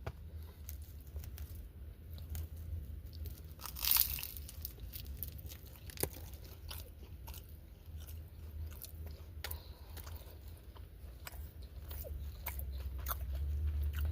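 Someone bites into a Moe's Dragon Chicken Wrap, and soft, close chewing and crinkly tearing follow with a crisp bite around the middle. It is quiet overall, with no talking.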